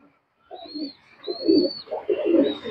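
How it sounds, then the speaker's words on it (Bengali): A pigeon coos softly and repeatedly, close by, in low throaty bursts with brief pauses between them. "মাকড়া লাইনের কবুতর, এটা আমার মাকড়া লাইনের কবুতর।"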